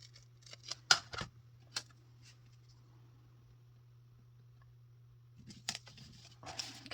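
A few quick scissor snips cutting white paper off a planner spread, clustered near the start and again at the end, close and fairly quiet over a low steady hum with silence in between.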